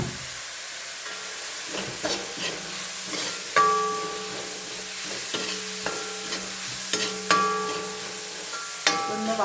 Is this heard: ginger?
yes